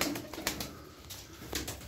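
Gitti pigeons cooing softly in a loft, close and low with a few wing rustles, no talking over them.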